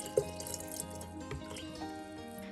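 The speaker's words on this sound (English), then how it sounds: "I carefully pour the water so I do not move the placement of the crystals" Filtered water trickles and drips as it is poured gently into a fish tank over crystals, a faint splash near the start followed by soft, steady liquid sounds under a low background hum.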